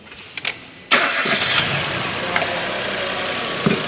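A Datsun Go with a misfiring engine and a newly fitted ignition coil starts after a quiet pause. It catches abruptly and settles into a steady, close idle, with voices heard nearby.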